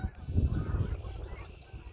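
Canada geese honk in a low, muffled chorus, several birds calling at once over outdoor rumble, moderately close and continuous for a couple of seconds.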